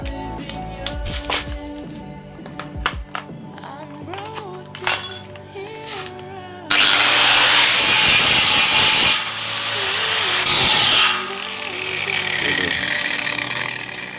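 A handheld angle grinder whines loudly as it grinds, starting abruptly after a stretch of quieter tool handling and speech, then holding a steady harsh roar with small shifts in pitch as pressure changes, close by.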